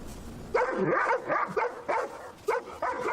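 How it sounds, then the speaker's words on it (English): Several big, aggressive dogs bark repeatedly in quick, uneven bursts at a moderate distance, with short gaps between barks and no talking. "Dogs. Big dogs. Lots of big, aggressive dogs."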